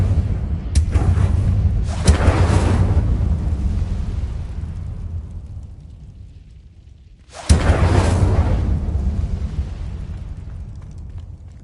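Incendio fire spells cast in the Hogwarts Legacy video game, two loud roaring fiery bursts that erupt suddenly and rumble before slowly fading, the second following after several seconds of near quiet.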